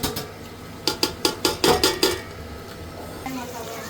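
Potatoes and tomatoes go into a cooking pot of ready masala for prawn biryani, heard as a quick run of about seven close, sharp metallic clanks of a utensil against the pot, evenly spaced, then quiet kitchen background.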